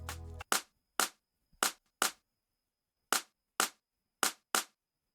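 A crisp drum slap sample in an Afrobeat beat made in FL Studio 20 hits repeatedly in a sparse pattern, eight sharp strikes in uneven groups, preceded by a brief low rumble, with no talking.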